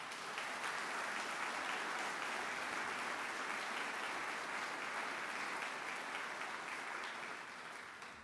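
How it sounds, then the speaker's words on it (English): Audience at a military change of command ceremony applauds the families, a steady, dense wash of clapping from a large crowd that holds for several seconds and then fades slightly at the end. "So let's give them a round of applause."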